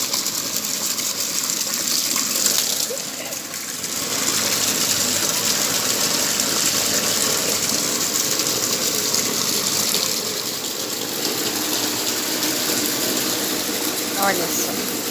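Stored rainwater being drawn and poured, a steady gushing pour running for most of the stretch with a brief dip early on.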